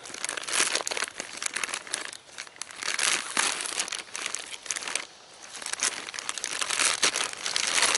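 A plastic package is slowly cut open, with loud crinkling and crackling of the plastic in uneven bursts and short pauses, close up.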